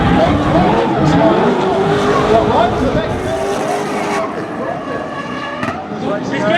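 Drift cars at a D1NZ drifting championship round in Tauranga, engines roaring and tyres squealing during a tandem chase battle, loud and continuous with a commentator talking over it.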